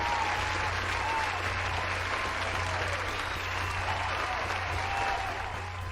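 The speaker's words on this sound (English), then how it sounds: "Let's clap it up." Continuous applause from a video game crowd, steady and even throughout with a low hum beneath it.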